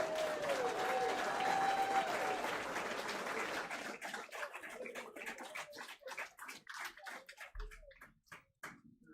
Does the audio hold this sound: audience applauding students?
yes